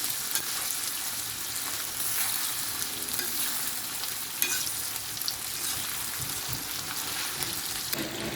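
Breakfast sausages fry and brown in a pan with a steady, close sizzle and fine crackling throughout, a few brief pops and stirring sounds, no voices.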